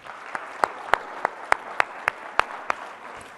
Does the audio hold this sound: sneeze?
no